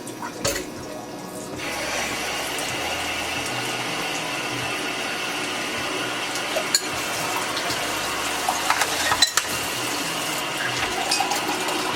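Gin is poured into cocktail glasses with a steady trickling, liquid-fill sound close by, briefly interrupted near the middle and end with small clinks.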